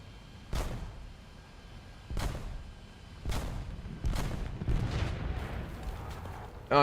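Heavy tank shells boom and detonate in War Thunder: a series of deep, punchy blasts about a second apart, each with a short rumbling tail, fairly distant and moderately loud, with no voices.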